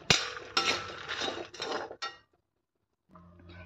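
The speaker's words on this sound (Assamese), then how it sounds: "ধুনীয়াকৈ মছলাৰ লগত মই লেটিয়াই দিম এতিয়া।" Fried makhana stirred with spices in a pan gives several quick, close scraping and clinking strokes of a spoon against metal, then a pause of near silence before a quieter rattle resumes.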